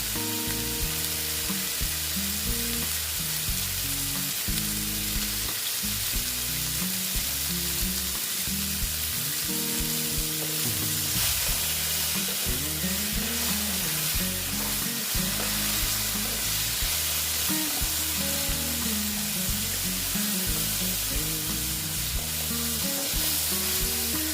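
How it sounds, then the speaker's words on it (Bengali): Besan-coated okra (bhindi) fries in a pan with a steady, loud close sizzle, with occasional stirring scrapes over the continuous hiss and no talking. "আস্তে আস্তে ভেজে দিচ্ছি আমি আস্তে আস্তে ভাজবো"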